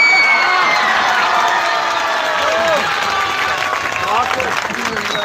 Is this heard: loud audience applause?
yes